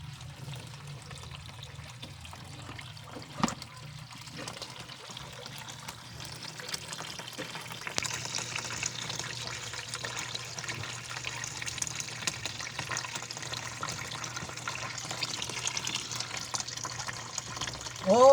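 Water pours steadily into a tub being filled to bathe turtles, a continuous splashing rush with a faint tap or knock early on and no speech.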